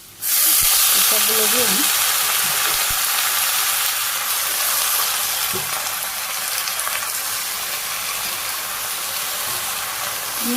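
Greens dropped into a pan of frying onions and potatoes bring a loud, steady sizzle and hiss that carries on throughout, with a voice speaking briefly at the start.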